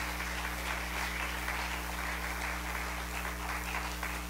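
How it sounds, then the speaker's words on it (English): A church congregation claps their hands in a steady, dense wash that sounds distant and faint beneath a constant electrical hum. "Let's clap our hands."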